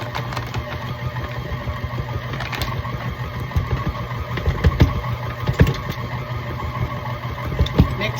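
An old KitchenAid stand mixer beats cookie dough made with almond flour, giving a steady close motor whir with rhythmic knocking and irregular louder thumps; no one talks.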